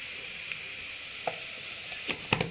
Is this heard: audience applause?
no